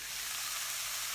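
Andouille sausage and feta spinach sausage sizzle steadily in a pot in a small RV kitchen, a close, continuous hissing fry with no talking.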